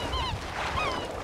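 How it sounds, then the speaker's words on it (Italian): Seagulls call in the Fallout 4 game world, a few faint overlapping cries over a steady low wash, as if heard near open water. "Senti i gabbiani."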